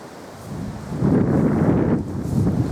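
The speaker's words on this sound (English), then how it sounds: "it's not fun because it's too windy" Strong wind buffets the microphone on an exposed clifftop at Scarborough Castle, a low rumbling roar that swells after the first second and stays loud, with gusts rising and falling.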